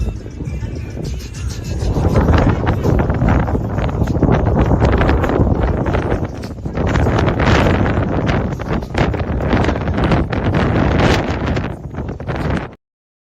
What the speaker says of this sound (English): it was windy out there today